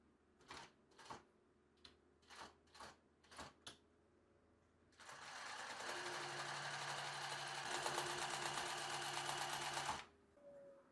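Sewing machine stitching fabric for elastic-waist shorts, a steady loud whirring run of about five seconds, preceded by a series of separate short clicks as the needle is positioned.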